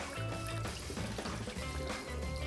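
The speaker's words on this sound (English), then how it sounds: "Pour." Cold brew coffee pours steadily from a container into a jug, a quiet continuous liquid stream with a gurgling, filling quality that lasts a couple of seconds.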